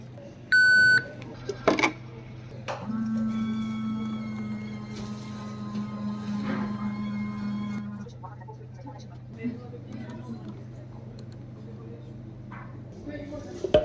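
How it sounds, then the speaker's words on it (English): A Nescafe coffee vending machine making a bean-to-cup latte gives a short electronic beep, then a few clicks and a steady mechanical whirring hum of grinding and dispensing that runs for about twelve seconds before stopping. "there's more than one coffee machine here, so let's give Nescafe a shot."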